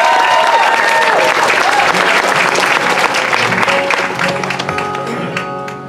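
A bluegrass festival crowd applauds and cheers a fiddler, with loud, dense, sustained clapping that slowly thins toward the end.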